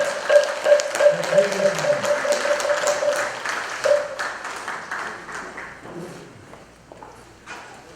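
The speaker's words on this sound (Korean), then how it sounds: "큰 박수를 보내주십니다" An audience at an indoor gathering claps loudly in a dense, sustained burst of applause that thins out and fades toward the end, with scattered claps and a faint ringing tone early on.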